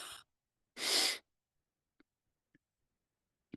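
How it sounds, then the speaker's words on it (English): Two short, sharp, breathy sneeze-like bursts come close together, the second one louder. Faint clicks and small noises follow in an otherwise quiet room. "There's more sneezing."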